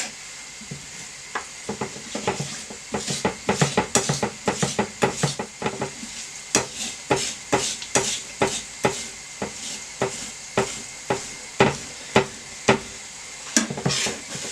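Garlic cloves pressed and crushed with salt into a paste, heard as a close run of sharp, rhythmic scraping strokes that repeat steadily throughout with no voices.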